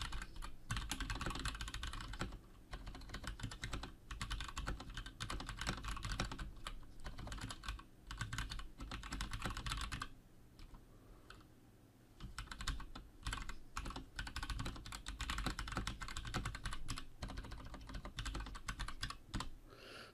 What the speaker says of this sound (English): I'll be quiet while I do typing, so you get a feel for what the keys sound like